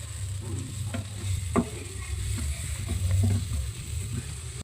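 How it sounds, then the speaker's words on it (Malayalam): Garam masala and fennel seeds fry in a hot pan, giving a steady low sizzle with a few soft stirring scrapes and a sharper clink near the start, close and continuous with no talking. "നമുക്ക് മേരി ഗരം മസാല ഇടാം കുറച്ച് പെരുംജീരകം ഇടാം ഇനി ഗായ്സ് ഇത് നമുക്ക് നന്നായിട്ട് മൂപ്പിച്ചെടുക്കാം"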